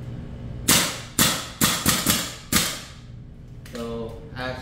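A VFC M110A1 gas blowback airsoft rifle is dry fired, giving five sharp, close snapping cracks, each with a short metallic tail, spaced unevenly in quick succession, followed by a faint rattle.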